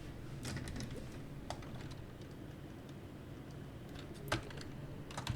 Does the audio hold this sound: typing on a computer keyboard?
yes